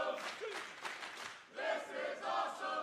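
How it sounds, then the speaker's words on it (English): A wrestling crowd at a Ring of Honor event cheers and chants: a loud, sustained roar of many voices, with a brief dip midway before it swells again, and an announcer faintly under the noise. "the crowd is loving it"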